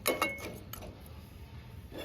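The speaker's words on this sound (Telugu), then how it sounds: "మూత పెట్టి ఉడికించుకుందాం." A metal lid set onto a cooking pot of mutton drumstick curry on a gas stove makes a couple of quick close clinks at the start, followed by quiet background.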